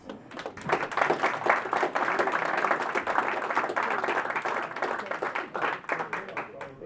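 An audience at a Rotary Club presentation applauds, claps rising quickly and sustaining unevenly, with some voices mixed in among the clapping.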